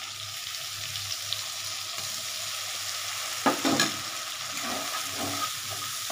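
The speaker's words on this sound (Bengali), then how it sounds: "মশলাটা তেলের মধ্যে দিয়ে দিচ্ছি" Spice paste hits hot oil in a pan while potato and pointed gourd wait nearby; a steady, close hiss of frying runs throughout, broken midway by a brief burst of stirring and scraping.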